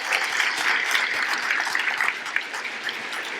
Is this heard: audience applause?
yes